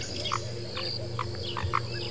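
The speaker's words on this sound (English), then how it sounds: "Yes, my frogs are calling." A frog croaks in short, distinct calls, about five of them spaced through the moment, moderately close, over a faint steady night ambience. No voices are heard.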